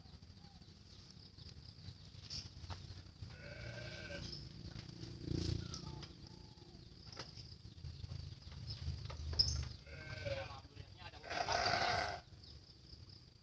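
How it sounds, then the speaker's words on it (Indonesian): Goats bleat several times at a distance over steady rain and a low background rumble, with a few faint spoken words. "Ini kambing-kambing buat korban banyak sekali tuh."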